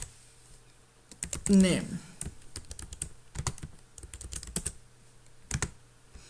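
Computer keyboard keys typed in quick irregular bursts while writing Laravel Blade template code, close and clear, with a brief spoken word partway through.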